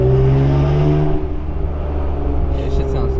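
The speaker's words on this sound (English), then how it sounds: "that's the best sounding exhaust I've heard" A Honda S2000 with a Spoon exhaust revving with a deep, throaty rumble that holds steady, then a sharper burst near the end.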